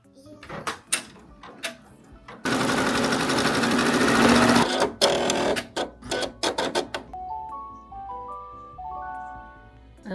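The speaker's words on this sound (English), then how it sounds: "Now let's go ahead over to the embroidery machine. Okay, looks like it's going to be stitching right here." An embroidery machine stitches a design in a small business workspace, a steady loud mechanical whirring run lasting a couple of seconds, preceded and followed by clicks, clunks and short bursts of stitching, ending with electronic beeps.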